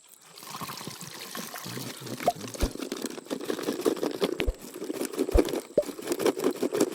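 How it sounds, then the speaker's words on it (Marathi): Water poured into plastic bottles used as fish traps, a steady trickling and splashing stream lasting several seconds with occasional sharp knocks and handling clatter outdoors. "पाणी टाकतोस?"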